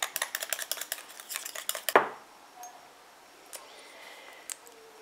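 Anti-aging cream mixture stirred in a small container, a quick run of light rapid clinking and scraping that ends in a sharper knock, followed by near silence with a few faint taps.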